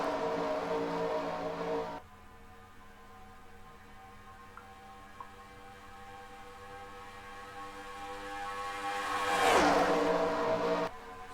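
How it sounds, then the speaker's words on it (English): Race car engines in an oval racing video game drone steadily, then one car roars past with a rising-then-falling whine near the end, loud and close, no voices. "Here comes the fastest car on the racetrack."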